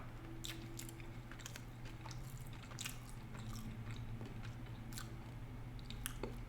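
Someone chews a Wendy's barbecue chicken sandwich with pickles. Close, soft bites and moist crunching repeat irregularly over a quiet room hum.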